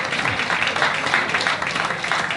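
A big round of applause from an audience at a library's 20th anniversary celebration, dense continuous clapping from many people, fairly loud and sustained.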